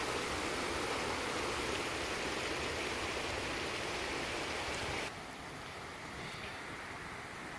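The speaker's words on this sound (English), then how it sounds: "Notice how the cascades drop into these little pools." Water from an artificial waterfall cascades into small pools along a canal, giving a dense, steady rushing wash that drops to a slightly softer level partway through, continuous and without voices.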